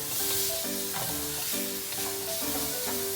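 Pork frying in a pan, a loud continuous close sizzle with no talking, while a faint melodic tone pattern repeats in the background.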